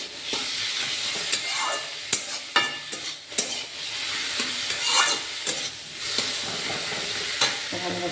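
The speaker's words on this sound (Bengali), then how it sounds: "ওটাকে আমি যেটুকু রস আছে এর মধ্যে ঘিয়ের মধ্যে এরকম আড়াচাড়া করে নেব" Boiled, drained bottle gourd being stirred in ghee in a pan, a steady close sizzle and frying hiss broken by repeated scraping spoon strokes at an irregular rhythm, with no talking.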